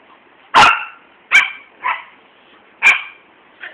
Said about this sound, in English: That's Libby barking in the house.